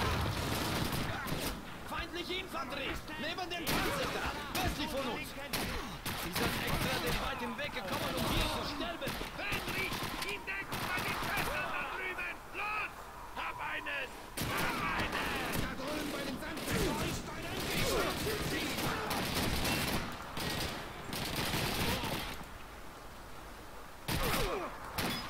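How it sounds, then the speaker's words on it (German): Gunfire in the World War II shooter Call of Duty 2: dense, sustained bursts of rifle and machine-gun shots with loud battle noise that runs almost continuously, broken by a few short gaps. "Wie viele Schüsse hält denn der aus?"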